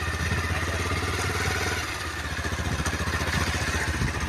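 A motorcycle engine hums steadily after an upshift, a close, even mid-pitched drone with a faint pulsing rhythm throughout and no talk.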